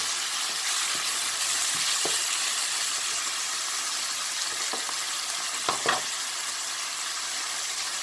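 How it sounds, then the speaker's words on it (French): Shrimp sauté in a pan with a constant, loud, dense sizzle that runs through the whole clip. A few soft scrapes and knocks of stirring surface now and then, with no voices. "Je remue légèrement à chaque fois pour que ça ne brûle pas."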